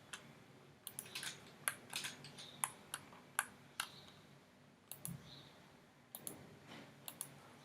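A computer mouse clicks repeatedly while someone works in 3ds Max modeling software, giving a series of faint, crisp ticks at an irregular, unhurried pace in a quiet room.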